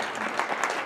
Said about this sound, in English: would you one more time give a nice round of applause to the ladies